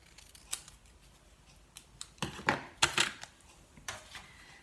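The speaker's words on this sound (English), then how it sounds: "I'm going to trim off this end" Scissors trim the end off a paper greeting card, a series of crisp close snips that cluster into several quick cuts near the middle, alone over quiet room tone.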